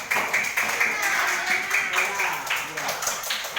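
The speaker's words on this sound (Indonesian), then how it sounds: "Kasih tepuk tangan juga untuk Putri." Primary school classroom clapping for a pupil, a brisk, close patter of many small hands in rhythmic bursts, with a teacher's voice faintly underneath.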